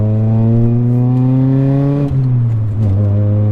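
A Honda Prelude cruises in fifth gear with a loud, steady engine drone from inside the cabin, the pitch easing slightly near the end as the car slows for a turn.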